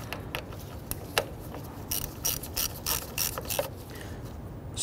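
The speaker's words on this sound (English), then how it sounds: "ratchet to go ahead and snug these down in a position" Close, loud ratchet clicks in quick broadband bursts as a ratchet snugs down a battery hold-down or terminal nut on a 1994-2004 Ford Mustang, set over a steady low rumble with no talking.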